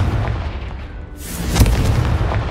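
Confringo fire curse blasts in Hogwarts Legacy, a deep booming explosion hitting around the midpoint with a rumbling low-end roar and sharp crackle, surrounded by continuous game noise and low rumble.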